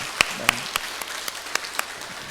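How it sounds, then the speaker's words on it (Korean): A church congregation at a Sunday service claps for the worshippers on the ground floor; sparse, distinct claps ring out at an uneven pace, fairly close and moderately loud, with a faint voice underneath. "우리 1층에서 예배하시는 분들 위해서 박수합니다"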